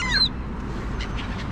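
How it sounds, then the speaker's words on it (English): Sparrows at a feeder with seeds and nuts give a brief, bright chirp at the start, then only soft, scattered twitters over quiet outdoor background. "there's our little sparrows over there in the corner, enjoying their little combination of seeds and nuts"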